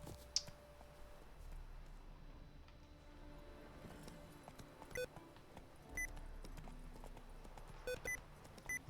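Horse hooves clip-clop at a steady trot in the video game The Witcher 3, faint and rhythmic beneath soft game ambience, with a few short electronic beeps.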